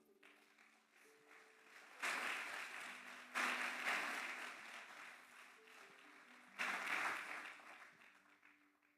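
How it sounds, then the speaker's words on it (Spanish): Church congregation claps in bursts of applause, fairly faint and distant, with several surges of clapping separated by quieter stretches. "Dale un aplauso a Dios."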